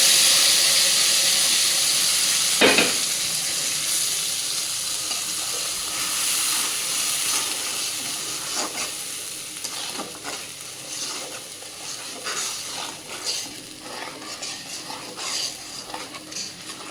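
Ginger-garlic paste and other ingredients sizzle in hot oil in a home kitchen, a steady broad hiss with a sharp pop near the start and stirring scrapes that slowly soften over time.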